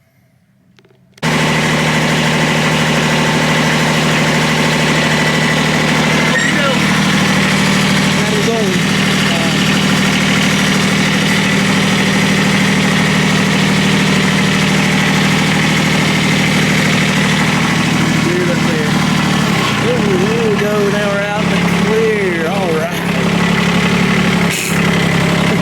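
A snow-clearing vehicle's engine starts up and settles into a steady, loud idle close by, running continuously with a low rumble and slight vibration throughout.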